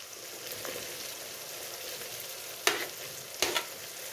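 Green chilies sizzling in hot oil for a mixed vegetable pickle, a steady close frying hiss with a couple of sharp crackling bursts as they hit the pan.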